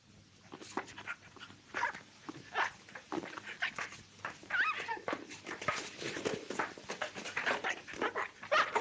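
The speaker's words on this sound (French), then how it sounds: "Oh, ce maudit chien!" A dog in a 1935 French film scene barks and whimpers in a busy, agitated run of yelps and whines lasting several seconds, fairly close and unaccompanied by talk.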